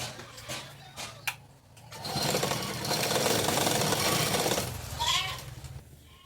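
An electric sewing machine stitches fabric in a continuous whirring run of a few seconds, preceded by softer clicks and handling sounds, with a brief voice near the end.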